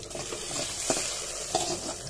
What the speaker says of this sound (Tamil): நம்ம இப்பதாங்க தாளிச்சு எடுத்து தாளிக்கிறோம்